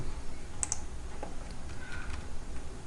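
Quiet, steady typing on a computer keyboard, a soft run of small key clicks with a few sharper taps, close and alone without speech.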